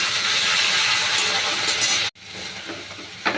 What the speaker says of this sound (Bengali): সেই টমেটো দুটো দিয়ে দিলাম